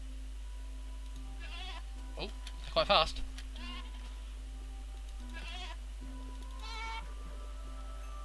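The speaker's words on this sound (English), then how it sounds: "I appear to have found a goat." A goat in the Minecraft Technic modpack bleats several times in short, wavering cries spread out over a steady low hum, the loudest near the middle, while someone comments briefly.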